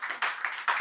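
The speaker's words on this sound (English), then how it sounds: "Let's give him a little applause" Audience applause in a brief burst of a few pulses of massed clapping, fairly soft and close, with no talk over it.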